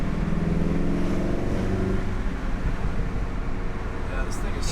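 Engine and intake of an APR Stage 2 tuned Golf R with a turbo, a steady loud drone of the car under way with a rising whooshing turbo note, heard from inside the cabin as people talk over it.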